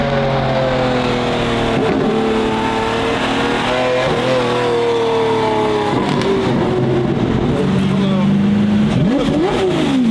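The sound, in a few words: Lamborghini Gallardo engine driving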